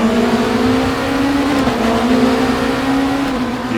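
Race cars in the RaceRoom racing game, a BMW among them, launch in a tight pack, engines droning loud and steady with rising pitch throughout, close and continuous with no talk.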